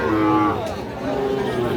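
A cow at a cattle market lets out a loud, close, drawn-out moo lasting most of the clip, with faint crowd murmur behind it.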